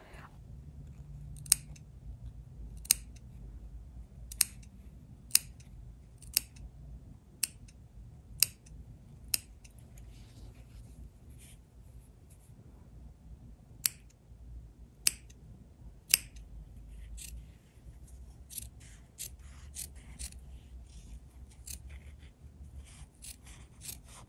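Sharp scissors snip fabric in a sewing setting, trimming excess cloth near an elastic waistband; a run of crisp, isolated cuts spaced about a second apart, then scattered fainter snips over a quiet low hum, with no talk.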